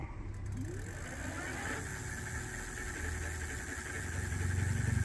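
Electric bike with a hub motor at pedal-assist level 1 accelerating under throttle, producing a faint whine that climbs in pitch over a steady background of wind and road noise.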